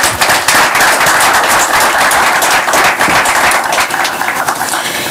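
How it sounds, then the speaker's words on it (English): Loud, steady applause from the audience at a university football press conference announcing a new head coach, with dense, crackling clapping that fills the whole stretch. "we need to give them a round of applause"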